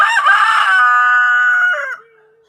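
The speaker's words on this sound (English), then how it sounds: "I think the rooster might agree with you there." A rooster crows once, loud and close, a single drawn-out cock-a-doodle-doo that fades at the end.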